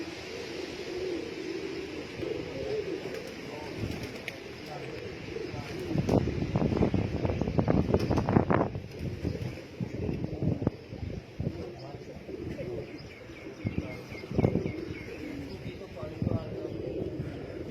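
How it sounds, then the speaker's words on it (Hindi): A homing pigeon coos faintly while returning home through a storm and rain, soft repeated calls mixed with wind and rain noise, with people talking over it. "बड़ा बहादुर कबूतर है"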